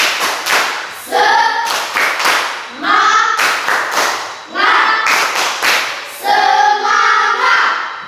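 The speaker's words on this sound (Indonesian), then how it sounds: "Sekali lagi, tepuk semangat." Rhythmic classroom hand clapping in repeated patterned bursts, crisp and loud, interleaved with children's voices chanting in time.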